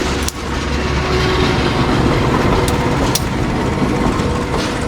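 Shunting train hauling five passenger cars, a loud close continuous rumble and clatter of wheels on rails with a couple of sharp metallic clanks, steady throughout with no talking.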